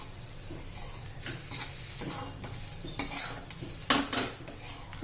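A spoon stirring chopped coriander into a thick spicy masala in a pan, with soft scraping strokes and a few sharper clicks against the metal, faint and close, no voices.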